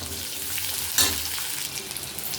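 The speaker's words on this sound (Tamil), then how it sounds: "கொஞ்சமாக தேங்காய் போட்டு நல்லா வதக்கி விட்டுக்கணும்." Ginger, garlic, onion and a little coconut sauté in a pan as the base of a mutton gravy, with a steady close sizzle and a brief stirring scrape midway.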